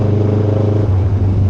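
Kawasaki Ninja with a carburetor engine and an SC Project exhaust, a steady deep idling rumble with a throbbing low burble, close and loud, with no voices.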